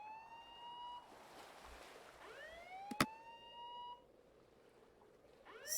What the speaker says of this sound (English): Okay, so Alex said the alarm is here